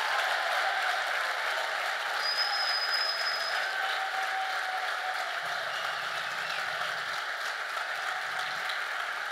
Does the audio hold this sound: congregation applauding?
yes